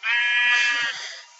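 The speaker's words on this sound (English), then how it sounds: "Sheep, shut up!" A sheep in the Minecraft Tekkit modpack gives one loud, close, wavering bleat that trails off toward the end.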